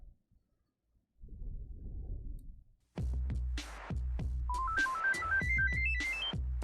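The Retro Razer ringtone in a phone's 2004 mode: after a soft muffled noise, a loud electronic tune starts with repeated percussive hits, then a rising stepped chime melody plays on top.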